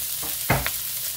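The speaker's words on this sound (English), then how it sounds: "stir fry these veggies. Get them all mixed up in the oil." Chicken and mixed vegetables stir-frying in oil in a skillet, a steady close sizzle with a brief louder clatter of stirring near the middle.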